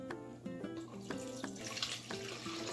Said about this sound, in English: Then you add water to the coffee maker itself.